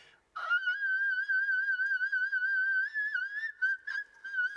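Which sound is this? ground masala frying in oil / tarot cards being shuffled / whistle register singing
whistle register singing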